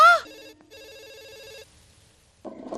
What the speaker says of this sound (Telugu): చిత్ర ఫోన్ ఎవరితో చూడు.